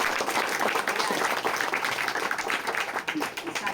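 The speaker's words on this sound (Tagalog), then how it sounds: "Palakpak po para sa Panginoon." A congregation at a night church revival service claps together, a fairly dense, steady patter of many hands that holds throughout and eases slightly at the end.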